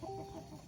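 Farmyard chickens cluck at feeding time in a rural morning setting, a single short throaty cluck heard close and fairly soft.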